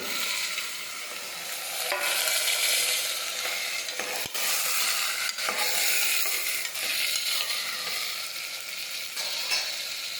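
Chopped potatoes stirred into frying onion, tomato and chili, a continuous bright sizzle broken by scraping stirs and a sharp utensil knock near the middle, no talk.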